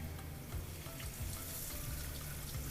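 Steady broadband sizzle of food frying in a hot pan, close and continuous, with faint watery bubbling and no talking.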